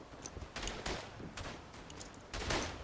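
Reichsrevolver shots in the WWI shooter Verdun, played as a German soldier: a few scattered, fairly faint cracks over steady battlefield noise, with a stronger burst near the end.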